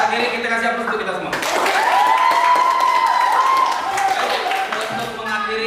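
Class participants clap together at the close of a teaching practice session, a sustained burst of applause lasting a few seconds, mixed with voices and a rising whistle-like tone.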